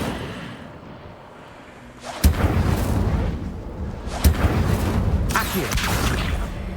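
An Incendio fire spell is cast in the Hogwarts Legacy video game, after a quieter lead-in, as sudden booming blasts, with a second sharp burst a couple of seconds later over continuous rumbling flame.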